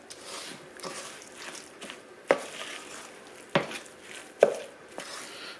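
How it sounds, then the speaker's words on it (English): Oatmeal coconut muffin batter being stirred in a bowl, a soft scraping swish with a few sharp knocks of the utensil against the bowl's side, close and quiet, without talk. "So let's mix this up."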